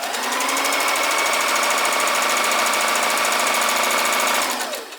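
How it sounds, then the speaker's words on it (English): A sewing machine stitches a long quarter-inch seam on a small two-inch log cabin doll quilt block, running in one steady, fast, close mechanical whir for about four and a half seconds before stopping. "And now I'll sew this long edge using a 1/4 inch seam allowance."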